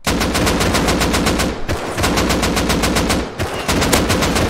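Rapid bursts of automatic gunfire from a semi-automatic weapon in a snowy base-raiding video game, loud and close, firing in three long sustained volleys with brief gaps between them.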